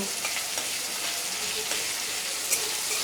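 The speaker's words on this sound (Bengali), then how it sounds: "পেঁয়াজটা আমি লাল লাল করে একটু ভেজে নেব" Chopped onion frying in oil until reddish brown for a chicken mince and chickpea ghugni, a steady close hiss with faint spatter and light stirring throughout; no talking.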